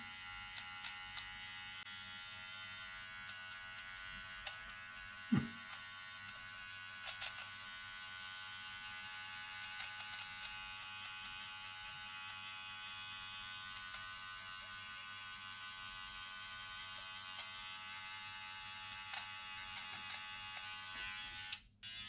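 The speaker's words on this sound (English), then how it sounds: "Now I have changed to the detail trimmer." Remington PG6021 detail trimmer running steadily with a thin, constant electric buzz and hum, close and fairly quiet, with a single small knock partway through.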